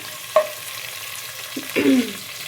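Onions frying in a pan make a soft, steady sizzle, broken by a couple of brief stirring scrapes.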